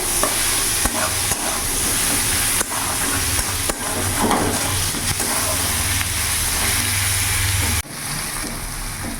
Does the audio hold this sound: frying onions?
yes